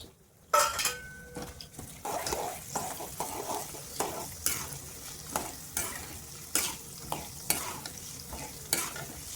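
Chopped green chillies sizzle in a pan for lemon rice with soaked rice, while a spoon stirs and scrapes them in a steady rhythm of repeated strokes, fairly close and moderately loud.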